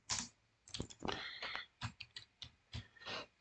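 Typing on a computer keyboard while editing brochure text: a short burst of quick, close key clicks in an uneven rhythm, fairly quiet, with no talking.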